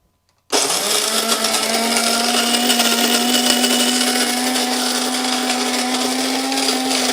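Built-in grinder of a Wirsh Home Barista Plus espresso machine grinding coffee beans, starting abruptly after a moment of silence and holding a loud, steady, high-pitched whirring drone with a faintly rising tone, close up and alone.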